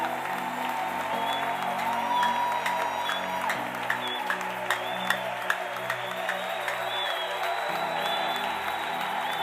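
Church congregation applauding and cheering to acclaim the Lord during a French-language worship service, steady sustained clapping and crowd noise with a few sharper claps, no clear speech on top.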